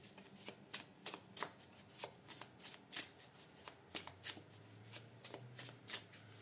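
Tarot cards being shuffled and cut, giving a quick series of crisp riffling snaps and flicks in an irregular rhythm, close and fairly quiet.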